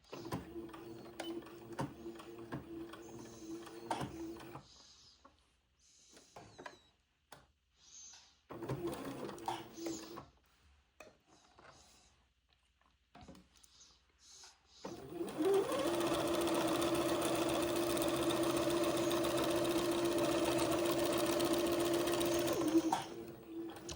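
A sewing machine stitches a zigzag seam on a sundress. Short, stop-start runs come first, then one long continuous whirring run close by. Faint, quiet talk can be heard during the pauses.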